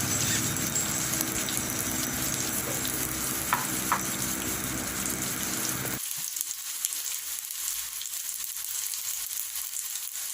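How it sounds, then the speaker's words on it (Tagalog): Fresh chili fries in a pan with a steady, dense sizzle and a few stirring clicks, then drops abruptly to a much quieter low crackle partway through. "napa-fry na yung fresh chili"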